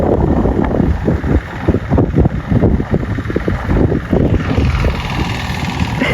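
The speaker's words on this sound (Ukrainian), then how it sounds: "Он вже їде і трактор." A loud tractor engine chugging nearby during a potato harvest, with steady low rumble and gusts of wind buffeting the microphone, no voices.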